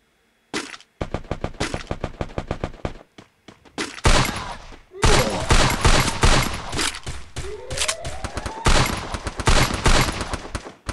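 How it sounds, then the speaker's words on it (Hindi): Rapid bursts of automatic gunfire in the battle royale game Free Fire, loud sharp cracks in fast rhythmic volleys separated by short pauses, with a whooshing sweep midway and no voice over the shots. "ओहो शॉट्स ले रहे हो भाई मेरे ऊपर।"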